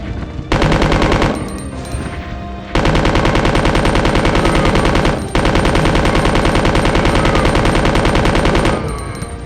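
Sustained automatic machine-gun fire in the video game Resident Evil 2, loud and close, in long rapid bursts broken by two brief pauses.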